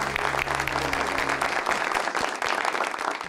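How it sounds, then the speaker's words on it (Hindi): Loud, dense applause from a live audience welcoming performers onto a stage at an Eid-ul-Adha special show, sustained throughout with faint background voices. "जोरदार तालियों में।"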